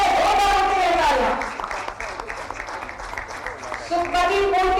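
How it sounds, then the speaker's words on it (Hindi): A crowd applauds at a ceremony where athletes receive appointment letters from the chief minister, a loud broad wash of clapping, with a voice over a loudspeaker at the start and again near the end. "जोरदार तालियां हो"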